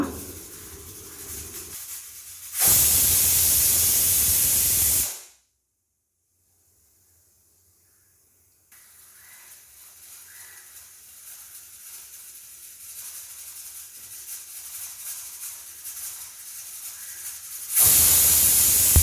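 A pressure cooker on the stove cooking chicken curry lets off steam twice, two loud, sustained hissing whistles separated by quieter kitchen background.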